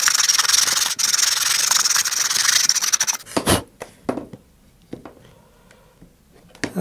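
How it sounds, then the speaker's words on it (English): Sandpaper rubs inside a rocket motor engine hook, a steady scratchy sanding for about three seconds followed by a few short, separate rubs and scrapes. "So now just go in there with sandpaper."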